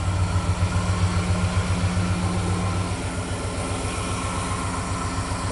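A 1995 Chevy Cheyenne pickup with a single exhaust idles steadily just after a cold start, its low, even engine rumble continuous and close with a slight drop in level midway.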